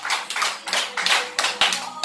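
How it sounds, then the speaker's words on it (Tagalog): An audience claps for an upline member, Jujon, at a weekly meeting of a networking alliance; a close, steady burst of many hands clapping fills the whole stretch without a break. "may palakpak para kay Upline, Jujon!"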